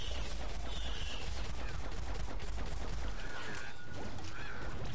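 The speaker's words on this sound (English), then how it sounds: "Stop fireworks, stop shooting." Dense, continuous barrage of game gunfire and popping fireworks bursts in Plants vs. Zombies Garden Warfare 2, rapid crackling shots overlapping steadily throughout with a few higher whistling streaks, fairly loud and busy.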